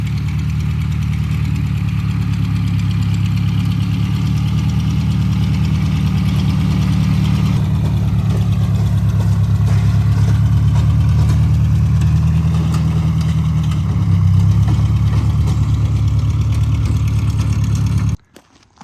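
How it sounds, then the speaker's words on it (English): A tractor engine runs steadily with a rototiller attached, a loud, close, continuous low rumble and idle knock that holds for the whole stretch before cutting off abruptly at the end. "Now we're gonna rototill it one more time with no tire tracks."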